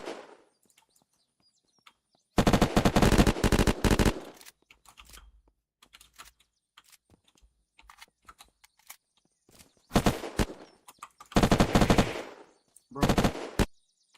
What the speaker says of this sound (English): Shit, that's a lot of bullets.